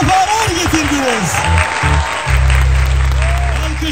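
Audience applause welcomes performers onto the stage at a Black Sea folk music event in Amsterdam, with clapping under an announcer's voice before a low instrumental drone enters partway through.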